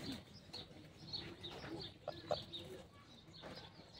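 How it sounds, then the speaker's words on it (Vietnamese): Chickens and ducks on a farm in rural Germany cluck and murmur in a soft, scattered chorus, with a few brief calls rising over steady low barnyard noise. "có nhiều vịt, nhiều gà lắm"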